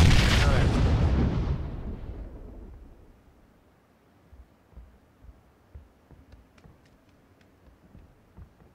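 Grenade blast in the battle royale game Battlegrounds: a loud, close boom with a long rumbling decay over the first few seconds, then quieter scattered thumps and faint clicks.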